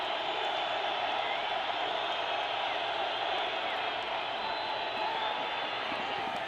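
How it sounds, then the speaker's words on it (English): Steady, dense crowd roar fills a college football stadium during the 2012 Oklahoma vs UTEP game, a constant far-off wash of voices at moderate level with no distinct breaks. "Crowd noise picks up now on 2nd and 16."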